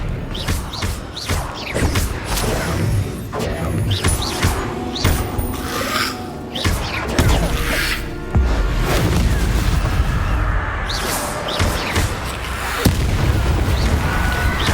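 Spell explosions crash through a combat scene in the Hogwarts Legacy video game, with dense, loud booms and bursts of magic piling on one another continuously, alongside impacts and thuds with no pause.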